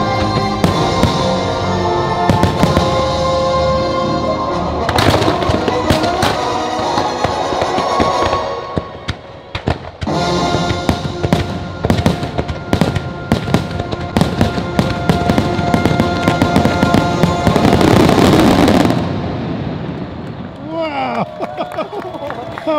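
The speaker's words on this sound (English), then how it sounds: "Epcot proudly presents Epcot Forever, our amazing fireworks spectacular" Epcot Forever fireworks spectacular at Walt Disney World: loud, continuous bursts and crackling explosions booming over a murmuring crowd, with music playing throughout and a brief lull midway.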